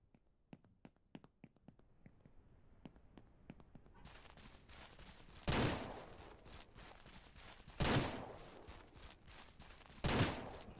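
Gunshots in Ranch Simulator start as a string of light, rapid distant pops, then three heavy, loud booming shots land a couple of seconds apart over a noisy outdoor background.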